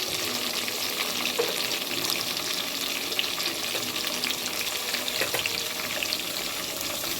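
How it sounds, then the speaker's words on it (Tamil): Onions and tomatoes sauteing in a pan, with a dense, steady sizzle and crackle running without pause from start to finish at a fairly loud level. "தக்காளி போட்டு நல்லா வதக்கணும்."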